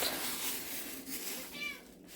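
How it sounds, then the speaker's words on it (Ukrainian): A cat gives a faint, short meow or two against quiet background noise at a market in Dnipro, Ukraine, with no voices over it. "Так, котики наші вже тут."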